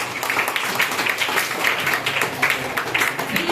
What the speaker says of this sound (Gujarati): હા સરસ બેઠા તાળીઓ પાડો.